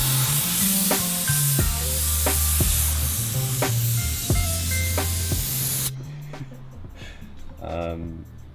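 Spray painting over a taped crack on a Subaru, a steady close hiss of the spray gun running for most of the stretch, with people talking over it and a brief change near the end.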